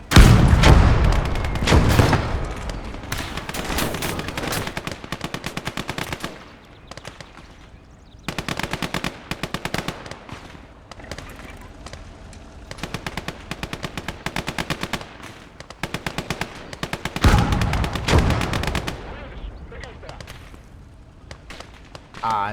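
Machine guns rattle in sustained bursts during a Finnish battle in the war game Call to Arms: Gates of Hell, loud and close with rapid repeated fire, brief pauses and heavier booming volleys.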